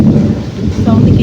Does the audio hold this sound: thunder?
yes